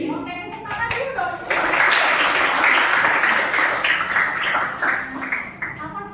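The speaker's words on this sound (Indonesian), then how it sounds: "tepuk tangan dulu dong." A classroom of students bursts into lively applause, many hands clapping together loudly and continuously for several seconds after a short stretch of talk.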